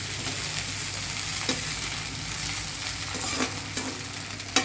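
A bunch of mint leaves fries slowly over a low flame, giving a steady, soft sizzle, with a few light clicks from stirring scattered through it and no voices.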